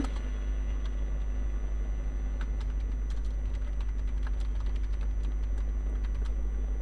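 Computer keyboard keys tapped in short irregular bursts while typing Bengali text in a word processor, light clicks over a steady low electrical hum, no voices.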